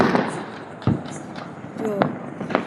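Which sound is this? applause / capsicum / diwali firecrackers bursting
diwali firecrackers bursting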